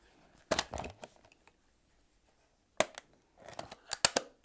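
Polaroid SX-70 instant camera being pressed and folded shut, giving a couple of close, crisp mechanical clicks and snaps separated by a pause, then a short burst of clacks.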